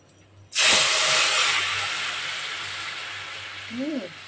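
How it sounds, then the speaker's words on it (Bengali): Hot tempering of spiced oil poured into cooked dal in a home kitchen: a sudden loud hiss that keeps sizzling steadily and slowly fades, with a brief voice near the end. "তো ডাল বাগার দিয়ে দিলাম।"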